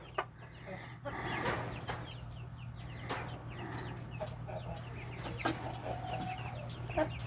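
Six-week-old Silkie chickens cluck and chirp softly inside a backyard coop, with frequent overlapping short calls against a steady low hum, moderately near and fairly quiet.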